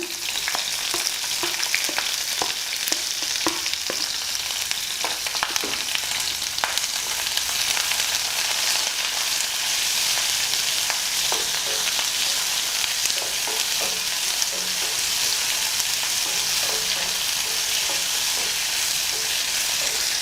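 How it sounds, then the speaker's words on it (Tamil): Dried red chillies, green chillies and chopped onions sautéing in a pan for an egg curry, giving a continuous close, crackling sizzle with occasional light clicks of stirring throughout. "நம்ம எடுத்து வச்சுருக்கக்கூடிய காஞ்ச மிளகாய் பச்சை மிளகாய் கட் பண்ணி வச்சுருக்கக்கூடிய வெங்காயம் எல்லாமே போட்டு நல்லா வதக்குங்க"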